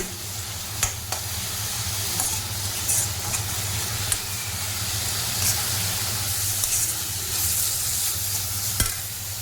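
Plain onion sautés in a pan while making spring-onion brinjal bharit, a steady close sizzle and hiss running throughout with a few scraping stirs and no talk.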